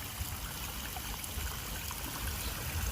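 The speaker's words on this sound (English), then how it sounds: "3-4 inch waterfall going into this basin area here" A small backyard pond waterfall, a few inches high, spills over a liner into a basin, giving a continuous, even trickle and splash heard close up with no talking.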